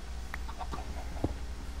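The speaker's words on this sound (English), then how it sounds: "Oh, that's where the chickens are." Chickens clucking in a Minecraft survival game, several short bird calls in an irregular sequence at moderate distance over a steady low background hum.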